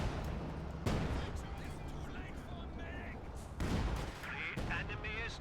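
Artillery barrage in a real-time strategy match, heavy shells landing in two broad booming bursts at roughly one and three-and-a-half seconds over a continuous battlefield rumble, with commentators talking throughout.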